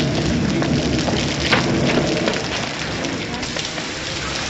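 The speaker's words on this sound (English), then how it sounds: "If it's raining worse, it's a sign it's nearly over." Dense, steady hiss of rain pours down continuously, loud and close, filling the whole stretch without pause.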